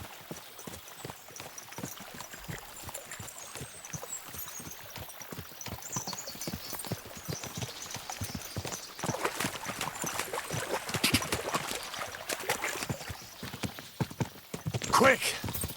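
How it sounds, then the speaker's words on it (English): Horses gallop in Kingdom Come: Deliverance II, with rapid hoofbeats clattering at a brisk rhythm that grows louder and busier toward the end, a rider's voice and faint flowing water in the background. "we'll give the horses a gallop again"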